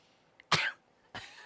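A single person coughs nearby, one harsh burst followed by a second shorter cough a moment later, with a small throat click just before, in a quiet room.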